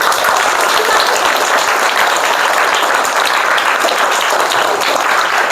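Loud, sustained applause from an audience fills the space after a balloon science magic trick, dense continuous clapping at a steady level with little talk.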